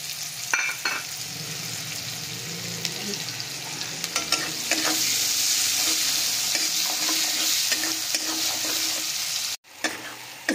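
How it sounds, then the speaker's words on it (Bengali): Chopped onions frying in oil with turmeric, a continuous close sizzle with intermittent stirring and scraping of a spoon in the pan, growing slightly louder midway, then a brief cut near the end. "পেঁয়াজগুলোকে দিয়ে একটু ভালো করে আমরা ভেজে নেব পেঁয়াজগুলোকে।"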